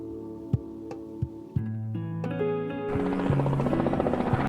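A cartoonish helicopter sound with rhythmic thumping beats builds up, its whirring tones stepping higher and growing louder.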